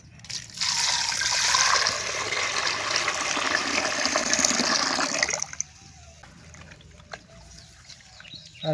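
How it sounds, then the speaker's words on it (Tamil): Water is poured over snail meat in a vessel to rinse it, making a steady gushing splash for several seconds before it stops, followed by a few faint trickles and clinks. "தண்ணி ஊற்றி அலசிக்கலாம்"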